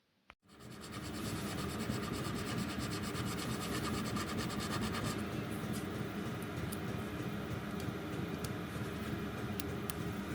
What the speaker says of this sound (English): A small amount of careful filing ensures the connecting rod fits properly back into the cross slide.